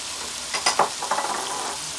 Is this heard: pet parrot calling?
no